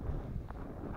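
Wind blows on a cold day by the Amur River after ice fishing, buffeting the microphone with low rumbling gusts and a couple of brief rustling bursts.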